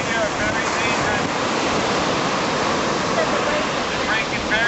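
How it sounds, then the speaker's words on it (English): Loud, steady ocean surf on a Hawaii beach with dangerous shore-breaking waves, a continuous broadband roar that fills the whole clip with no pauses. "waves over here are very dangerous"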